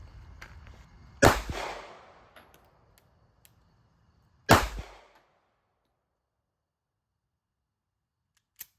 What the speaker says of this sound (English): let's fire them back to back to see how much better the LCP Max feels to you